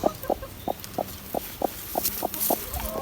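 A hen clucks in a steady series of short, regular calls, close by, with quiet background noise and no talk.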